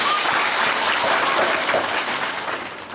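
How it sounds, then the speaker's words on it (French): A church congregation at an Easter celebration in the Archdiocese of Garoua applauds and acclaims, producing a steady, dense roar of clapping that fills the whole stretch and eases off slightly toward the end. "Il est vivant, il est ressuscité. Qui acclamons très fort."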